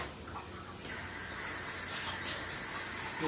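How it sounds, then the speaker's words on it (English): Water runs steadily from a kitchen sink tap as food is drained and rinsed, a continuous close gush that swells slightly after the first second and carries on alone with no talk. "So we're just going to drain them and rinse them."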